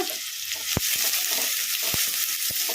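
Chopped onions frying with spluttering mustard seeds and cumin in hot oil, a steady loud sizzle broken by a few sharp pops and stirring knocks, no talking.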